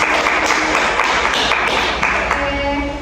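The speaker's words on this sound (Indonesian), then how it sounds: "Tepuk tangan untuk awak, teman-teman." Classmates clap for a presenter during a school guidance lesson, a loud, close burst of mixed hand claps that carries on steadily and thins toward the end, with faint voices underneath.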